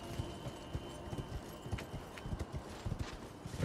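A horse's hooves clip-clopping steadily in the Elden Ring video game, a continuous rhythmic trot of dull thuds over a low ambient bed, moderately loud, no speech.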